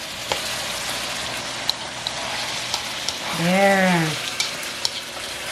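Carrots stir-fried with beef and Chinese sausage sizzle steadily in a hot pan, with a few scraping stirs and a brief spoken word over the frying.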